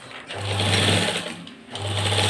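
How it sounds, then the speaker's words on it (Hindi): A sewing machine stitches the folded edge of an apple cut shirt with a loud, even motor whir, pausing briefly near the middle before starting up again. "ये किनोर की सिलाई लगा दी।"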